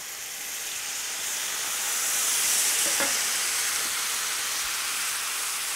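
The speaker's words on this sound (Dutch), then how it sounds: "Zo, en dan afblussen met water." Pork roast gravy sizzling and steaming in a pan after being deglazed with water, a steady broad hiss and crackle that swells slightly mid-way and holds, with no talk.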